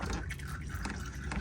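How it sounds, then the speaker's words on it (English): Transmission fluid from a 2002 Nissan Frontier automatic draining into a drain pan, a steady close trickling and splashing stream that keeps going without a break. "Bring the pan closer to the bottom of the transmission, and then so it keeps draining in there."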